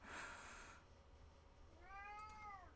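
A house cat lets out a single drawn-out meow near the end, faint and somewhat distant in a quiet room, after a soft, brief rustle.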